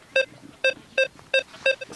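Metal detector on a Baltic seaside beach gives five short, sharp electronic signal beeps at an even rhythm, each a clear tonal bleep with quiet background between.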